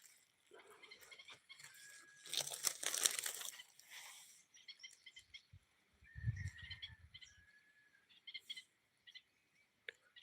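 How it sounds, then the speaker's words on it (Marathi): Birds in a tree raise a noisy fuss over a different bird that has landed among them. Quiet, irregular bursts of chirps and calls come with crinkly rustling, some at a distance, and no one speaks. "तो वेगळा पक्षी त्या झाडावर आल्यामुळं त्या गलका करतायत"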